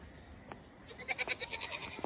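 A goat bleats repeatedly in the snow during the first snowfall of the season, a string of moderately loud, wavering cries close by with a faint earlier call.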